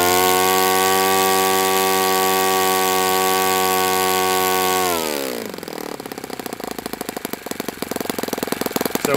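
Enya four-stroke model engine, compared against an OS FS 48 Surpass in low humidity, drones loud and steady, then its pitch drops sharply as it transitions into a rougher, sputtering idle.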